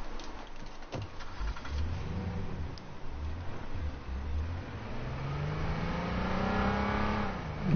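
A car engine in the video game H1Z1 revs and accelerates, rising steadily in pitch over several seconds as the vehicle picks up speed, loud and close with no talking.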